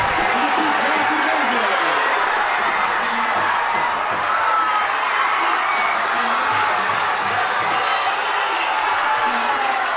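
A high school football crowd at Aliquippa vs. Montour roars and cheers after a successful two-point conversion. The sustained, distant stadium noise runs throughout beneath an announcer talking.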